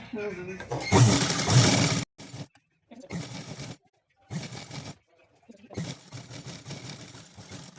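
Sewing machine stitching trousers, running in short close bursts of mechanical whirring with brief silent gaps between runs, the first burst loudest.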